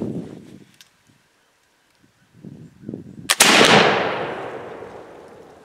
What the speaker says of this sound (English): I wanted to lay this on a branch here and shoot it from a distance